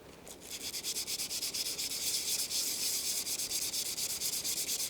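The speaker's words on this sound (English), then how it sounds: "So let's sand this across the grain here." Sandpaper held on a foam pad is rubbed by hand across the grain of a turned aluminum pocket case, producing a fast, even run of scratchy back-and-forth strokes, close and steady with no talking.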